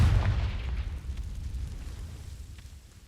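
A Confringo fire spell in Hogwarts Legacy bursts in a deep, rumbling explosion that hits hard at the start and then fades into a long, rolling decay.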